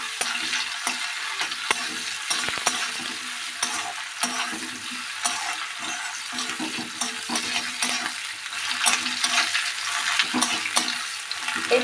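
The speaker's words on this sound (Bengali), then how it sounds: "কোচানো পেঁয়াজকে কিছুক্ষণ ধরে ফ্রাই করবেন" Chopped onion fries and sizzles in a pan for mung dal with drumstick, with a steady hiss and repeated scraping stir strokes throughout. No one speaks.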